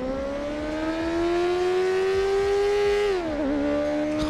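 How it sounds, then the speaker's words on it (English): Motorbike engine in GTA 5 revving in a long, steady rising whine that climbs slowly, then dips and wavers near the end, loud and close with no talking. "Oh, that bike sounds so nice"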